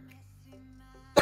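A single sharp cough bursts out near the end after a quiet stretch of low hum, close and loud.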